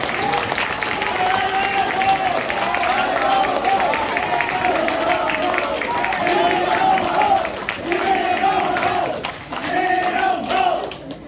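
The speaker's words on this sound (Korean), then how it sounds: "박수 한번 쳐주십시오." Sustained applause and cheering from party members at a party education gathering, a loud crowd clapping continuously with voices and hubbub mixed in, briefly dipping before swelling again.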